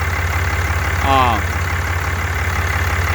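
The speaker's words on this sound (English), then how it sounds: "Look how it idles." A 2014 Ram 3500 with a Cummins diesel engine and 500,000 miles idles steadily up close, a smooth low rumble running throughout with a brief voice over it.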